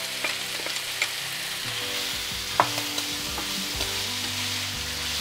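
Pepper and onion sautéing with cuttlefish and prawns for a seafood fideuà, a continuous sizzle broken by occasional scrapes and taps of a utensil in the pan, close and steady, with no talking.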